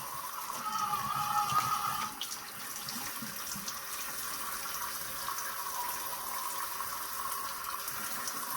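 Water rinses acid out of a dump can, making a steady, fairly quiet hiss of running water that stays constant throughout, with a brief higher splashing tone early on.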